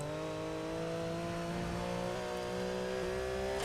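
Rally car with about 700 horsepower in Need for Speed Heat, its engine pulling hard with a steady, rising drone and brief shift dips, close and loud with no talk over it.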